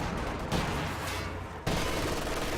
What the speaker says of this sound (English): some nice PTRS shots on the 250 there, gets it down to half